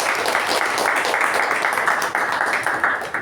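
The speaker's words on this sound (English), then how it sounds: "let's give a round of applause to the speaker and the evaluator" A room full of people claps together in dense, steady applause, close and sustained for a few seconds, tapering slightly at the end.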